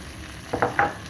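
Onions dropped into a pan of browned seasoned meat, a soft background sizzle broken by three quick scraping stirs near the end, close and fairly quiet.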